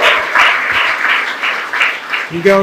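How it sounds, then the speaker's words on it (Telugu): Loud applause from a gathered crowd, with dense clapping holding steady for a couple of seconds before a voice starts speaking over it. "ఈ రోజున ఇటలీ నుంచి బ్రదర్ ఆంటోని గట్టిగా క్లాప్స్ కొట్టి"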